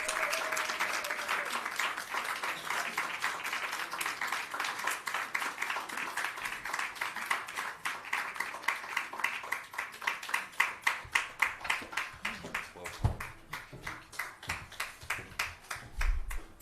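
A summit audience in South Africa keeps clapping while Queen Sekhothali Mabena of the Ndebele Kingdom walks to the stage, sustained, dense applause from a sizable crowd that stays steady and loud throughout.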